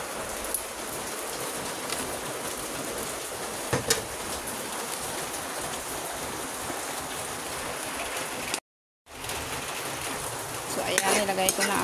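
Tough pechay stems are stirred into bubbling coconut milk in a pot. A continuous soft sizzle and simmer sounds like light rain, with a brief gap and some clinks near the end.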